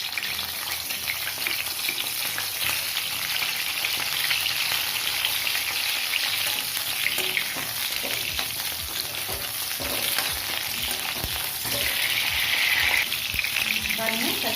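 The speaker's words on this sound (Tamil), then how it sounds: "கத்திரிக்காவை நல்லா எண்ணெயில் வதக்கி எடுக்கணுங்க" Eggplant pieces sauté in hot oil for a Tamil ennai kathrikai gravy, with a steady, close, loud sizzle and frying crackle running throughout alongside occasional stirring.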